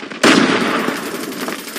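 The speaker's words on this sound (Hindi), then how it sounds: "ग्रेनेड" A grenade goes off in the Call of Duty video game as one sudden, loud, close blast that fades into a rumbling, crackling tail over about a second and a half.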